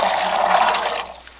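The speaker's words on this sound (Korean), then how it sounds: "먼저 먼지만 좀 씻어내겠습니다." Dried jujubes are rinsed in water, giving a steady splashing, rushing water sound up close that fades toward the end.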